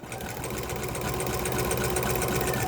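A sewing machine fitted with a walking foot stitching layers of fabric, a fast steady mechanical whir and rapid needle chatter running close and unbroken throughout.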